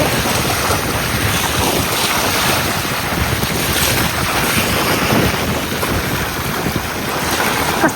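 Sea waves wash continuously around a moving boat off the coast near Al Mugheirah and Al Mirfa, with strong wind buffeting the microphone in a dense, unbroken roar and no voices.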